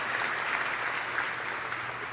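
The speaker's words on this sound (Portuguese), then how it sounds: "Pode celebrar com a salva de palmas." Steady applause from a church congregation, sustained and fairly even throughout with no speech over it.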